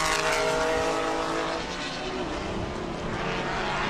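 Porsche race cars circulating together on a track at a vintage race festival in Spokane, a loud continuous engine roar that swells and fades slightly as the cars pass.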